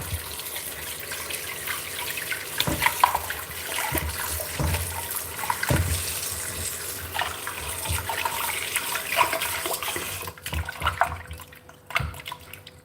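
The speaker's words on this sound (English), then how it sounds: "So empty out the water" Water being poured out and drained while preparing goat meat soup, an uneven splashing and trickling run with a few knocks and clatters of kitchenware, fading near the end.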